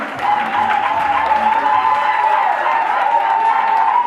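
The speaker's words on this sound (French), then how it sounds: "Applaudissons très fort" Guests at an official civil wedding ceremony applaud, with steady, moderately loud clapping from a small room crowd over a persistent background hum.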